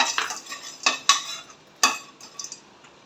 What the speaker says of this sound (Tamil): சட்டி ஆன் பண்ணிட்டு நிலக்கடலையை வறுத்துக்கணும்.